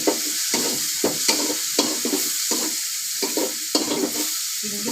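Prawns fry in a pan with a constant close sizzle, while a spatula scrapes and taps in an irregular rhythm of about a dozen strokes.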